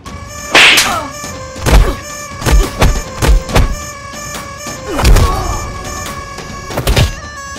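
Heavy punches land in a fight scene from a Bangla drama: a quick series of loud, dull thuds and whacks, some in rapid clusters, set against a steady music bed with no talk.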